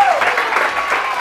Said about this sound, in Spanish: ¡Un aplauso, amigos!